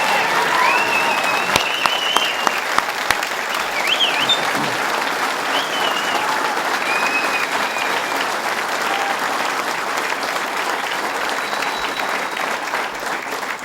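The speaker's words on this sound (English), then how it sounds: "Let's give her another round of applause." Sustained applause from an audience at a public announcement event for the Dunkirk power plant, a dense, even wash of clapping that carries on throughout, with a few whistles and cheers rising near the start.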